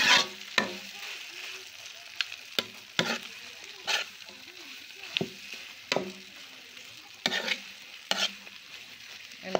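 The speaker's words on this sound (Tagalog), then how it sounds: "Ayan, haluin lang natin ng mabuti para mag-combine silang lahat." Sisig mixture stirred in a pan, a spatula scraping and knocking in irregular strokes over a soft frying sizzle, close and clear.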